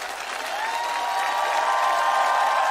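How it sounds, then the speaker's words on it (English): Steady audience applause fills the whole stretch without pause during a live performance of a song, with a faint tone of music running beneath the clapping. "round of applause"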